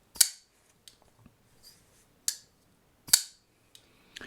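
A We Knife Co. Gava pocketknife clicks open and shut several times, crisp sharp snaps up close in a quiet room, separated by short pauses and softer small ticks.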